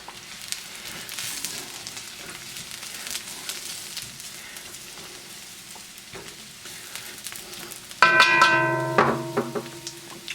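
Carrots stir-fry in a wok for vegetable japchae, with a steady sizzle and scraping stirs, and soft clatters from the spatula. Near the end, a louder ringing clang of metal rises above the frying.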